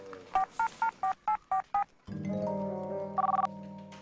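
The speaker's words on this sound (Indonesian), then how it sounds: "Del, lu mendingan ini deh, telepon dokternya." A telephone is dialed to call a doctor: eight quick evenly spaced keypad tones, then a steady ringing tone with a brief higher beep near the end.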